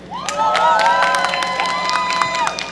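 Crowd at a university graduation ceremony breaks into sustained applause and cheering, with shouts and whoops rising over dense clapping for a graduating choir, loud and continuous throughout.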